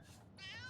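A cat in the video game Divinity: Original Sin lets out a short, faint meow that rises in pitch near its end.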